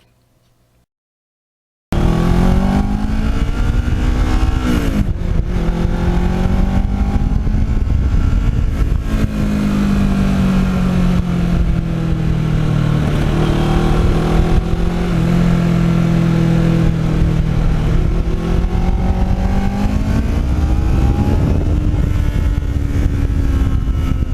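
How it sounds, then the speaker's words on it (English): Kawasaki Ninja motorcycle engine hums steadily while riding country back roads, a continuous close drone that rises and falls in pitch as the rider shifts and changes speed, with wind noise underneath. "when you're riding the bike, it has a very pleasant sound"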